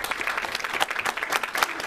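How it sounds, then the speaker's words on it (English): Short burst of audience applause at a League of Women Voters political forum in Long Beach, dense crowd clapping at steady volume for under two seconds. "Please hold your applause."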